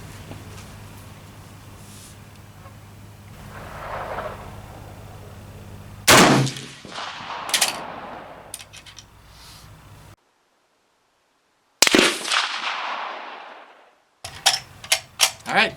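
Swiss K31 bolt-action rifles fired at an outdoor shooting range: several loud, sharp reports spaced seconds apart, each with a ringing decay, separated by quieter stretches and a brief silence.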